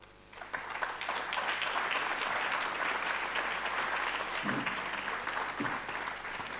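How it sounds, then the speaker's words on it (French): Sustained applause from a conference audience, steady and full throughout, with a brief quieter start before the clapping swells. "Je vais vous demander d'applaudir"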